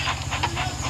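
A steam train engine in a Thomas & Friends video game hisses steadily, with a low rhythmic chugging underneath, close and continuous, with no voices.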